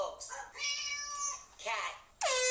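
A cat meows several times in quick succession, with a longer drawn-out meow and a sharp, loud final cry close by, in a comedic prank setting.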